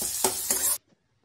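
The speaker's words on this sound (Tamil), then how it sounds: "நல்லா பக்கத்தில் இருந்து வதக்கி விட்டுட்டே இருங்க." Tomatoes and onions sautéed in a pan for dried anchovy thokku, a brief close sizzle with two quick stirring scrapes before it cuts off into silence.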